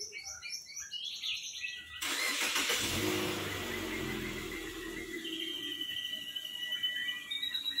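Mitsubishi Xpander engine starting up: after quiet with birds chirping in the background, the engine catches abruptly and settles into a steady idle, with the birdsong still faintly audible.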